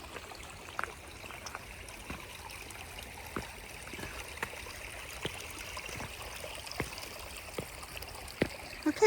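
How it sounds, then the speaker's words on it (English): A small mountain stream in Glacier National Park runs over stones, a soft steady trickle and babble with occasional splashes, faint and continuous with no voices. "There are several of these smaller streams."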